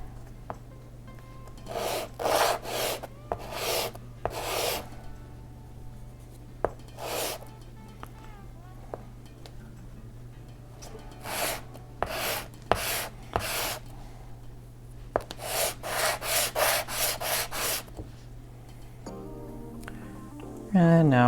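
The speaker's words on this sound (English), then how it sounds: "just going to run them down the sandpaper to sand off those little nubs" Small wooden fin parts for an Estes Viking model rocket are rubbed along sandpaper in short rasping strokes, clustered in quick bursts with pauses, close and clear, with someone talking between strokes.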